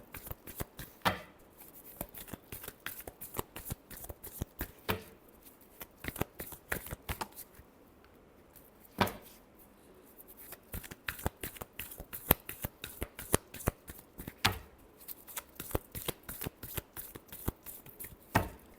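A tarot deck is shuffled by hand, with dense runs of crisp card riffles and flicks that repeat steadily over nearly twenty seconds, up close and with no talking.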